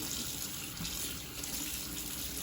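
Potatoes washed under a running kitchen tap: a steady faint rush of water with light splashing throughout, no talking.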